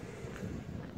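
Wind gusting across an outdoor microphone on a sunny day in Barcelona, Spain, a steady low rumbling buffet that fills the whole second with no talking.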